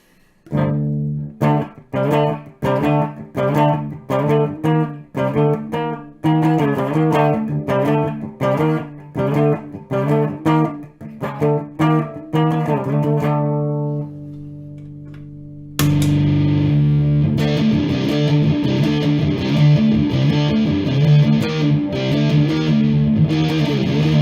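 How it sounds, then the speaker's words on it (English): Electric guitar plays a rhythmic run of chugging chords with a light distorted tone, then a brief pause before a thick, saturated fuzz tone from a Big Muff mini pedal sustains loudly. "to give you guys a good idea of what fuzz sounds like compared to a slight distortion"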